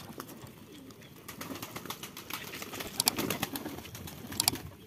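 Domestic pigeons on a house rooftop give soft, low coos over a busy background of wing flutters, scuffs and sharp chirps, the calls coming close and repeated at an uneven pace.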